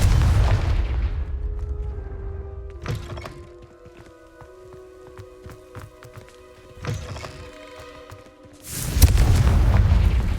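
Confringo fire spell cast in the Hogwarts Legacy video game, a loud burst at the start followed by softer thuds and pops against a game music bed, then a second heavy blast near the end.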